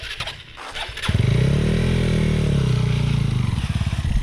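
A motorcycle engine during wheelie practice catches after a few brief sputters, then holds a loud, close, throbbing roar that swells and eases steadily through the rest of the clip.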